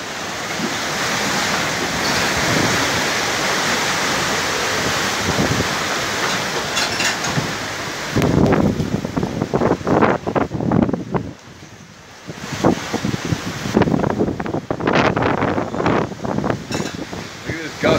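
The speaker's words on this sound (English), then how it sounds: "Look at this gust coming here, man." Hurricane Irma's wind in Florida roars and howls in strong gusts with surging surf-like rushes that batter the microphone, while someone talks excitedly over the storm.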